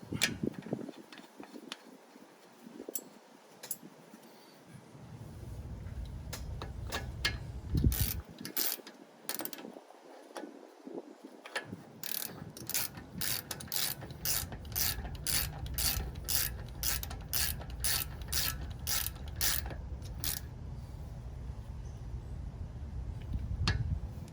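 A ratchet tightens a brake caliper bolt during a brake pad change. Short bursts of clicking pawl give way to a long, rapid run of regular ratchet clicks, close and alone with no talking.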